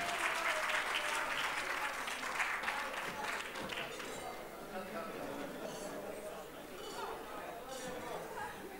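An audience at an evening award event applauds a TV host's arrival, with strong clapping at first that softens into a quieter spread of claps under crowd chatter and talk.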